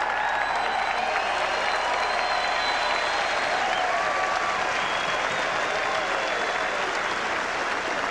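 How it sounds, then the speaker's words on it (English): A boxing arena crowd applauds both heavyweights after the Lamon Brewster vs Clifford Etienne fight, a dense, steady wash of clapping and some cheering that holds loud and unbroken throughout. "please, can we have a nice round of applause for both of these heavyweights?"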